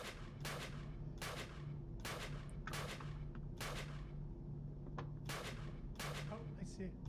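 Repeated gunshots from the video game CastleMiner Z, fired in a steady series of about eight sharp bursts spaced roughly a second apart over a low background hum.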